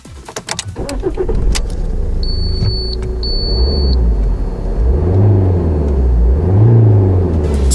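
Steady low engine drone heard inside a 2008 Alfa Romeo 147 1.9 JTD, a 150 hp turbodiesel, rising and falling in pitch as it revs, with a constant cabin rumble throughout.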